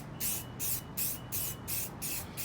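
Spray paint hisses onto thrifted denim jeans in about five even, rhythmic bursts, each a short close hiss separated by brief pauses.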